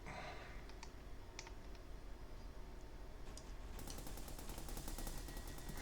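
Bullets fired at enemies in the video game Orientation, a rapid machine-gun-like rattle of quick clicking shots under a steady noisy game background, growing denser toward the end.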